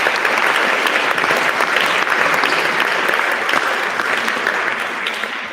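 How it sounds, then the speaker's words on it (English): Audience applause at a student teaching awards ceremony, dense and loud clapping from a large crowd that stays steady, then tapers off slightly toward the end. "Round of applause for everybody."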